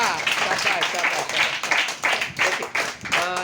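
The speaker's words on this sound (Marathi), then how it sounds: "जोरदार टाळ्या" Brief group clapping for a student in quick, uneven bursts, mixed with voices talking over it.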